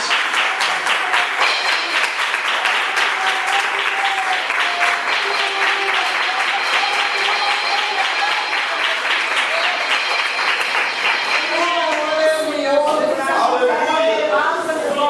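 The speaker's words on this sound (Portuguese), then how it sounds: "Desocupe as duas mãos e dá uma salva de palmas para Jesus nessa noite." A church congregation at an evening service applauds steadily, with loud, dense clapping sustained for the full fifteen seconds and voices cheering and calling out over it toward the end.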